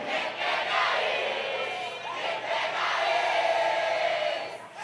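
Live acoustic concert crowd in Belo Horizonte, a dense wash of cheering and shouting from a large audience, loud and sustained throughout with no clear single voice.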